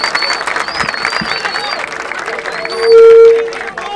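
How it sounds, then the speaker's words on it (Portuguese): Crowd at a rap battle, the Batalha da Aldeia in Barueri, SP, applauding a rapper with dense steady clapping and cheers. Voices and a whistle-like tone ring out over the noise throughout. "palmas pro Jonão aí, família, de coração!"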